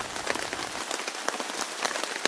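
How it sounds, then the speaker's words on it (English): Heavy rain drums on a tarp in the woods, a dense patter of drops with sharper individual hits, steady and close, no talking. "heavy rain as you can see"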